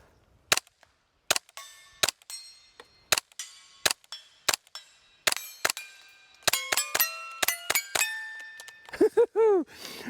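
Sharp, loud gunshots from an H&K G36 replica rifle chambered in .22LR fire one by one at uneven intervals, then faster near the end, with ringing metallic pings from struck targets.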